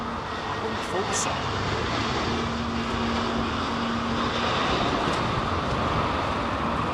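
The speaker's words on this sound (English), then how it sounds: "777 firing up its engines." A Boeing 777 spools up its jet engines at Heathrow airport during a storm, a steady broad roar with a faint rising whine, under wind noise and someone talking.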